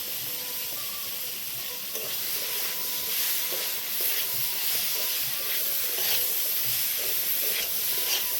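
Chickpeas being stirred with spices in a pan on the stove give a steady sizzling hiss with light scraping and stirring noises throughout, no voices present.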